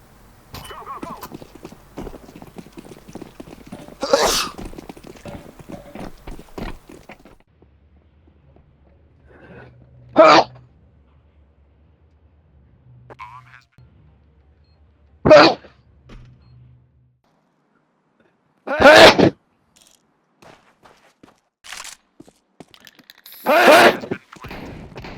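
A person sneezes about five times in sharp, loud bursts spaced several seconds apart, with quiet gaps between them and some talking near the start.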